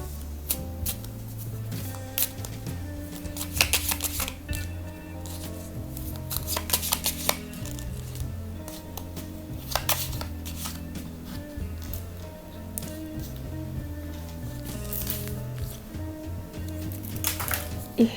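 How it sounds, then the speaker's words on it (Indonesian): Tarot cards are shuffled in quick, crisp riffles and slaps, with a few sharper taps as cards drop, over a soft background voice. "sebel deh kalau suka jatuh gitu kartunya"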